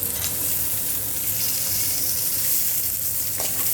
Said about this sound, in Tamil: இது எல்லாத்தையும் ஒரு 5 to 10 மினிட்ஸ் நல்லா அந்த நெய்யிலேயே வறுத்து எடுத்துக்கோங்க.